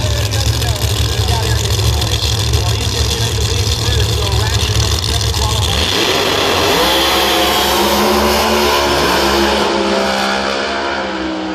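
Pro Mod drag cars at the Thunder Valley Nationals blast off the line in an elimination run, a thundering engine roar that shifts pitch as they pull away, loud and sustained, with an announcer talking over it.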